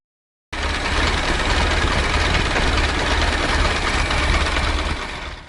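An early 20th-century car engine of about 20 horsepower runs steadily, a loud, dense mechanical rattle and hum that starts abruptly and holds for five seconds with no voices.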